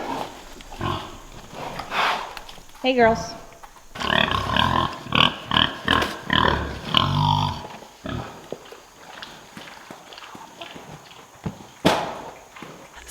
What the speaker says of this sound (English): let's go ahead and feed these pigs right now because I know they're hungry